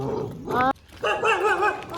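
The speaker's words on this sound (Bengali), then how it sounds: "এই পাড়ের কুকুরগুলো ঘেউ ঘেউ করছে" Two bursts of dog barking and yelping close by, the second longer and more drawn out, with no talk.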